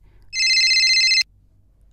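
A mobile phone rings close by with an incoming call, one steady bright electronic ring of just under a second that stops abruptly, followed by a brief faint click and no talking.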